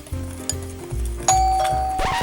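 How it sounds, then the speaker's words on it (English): A doorbell rings in a home kitchen during baking prep, a clear two-tone chime with a ringing tail that stands out over low background clatter. "Oh, didn't know we had a doorbell."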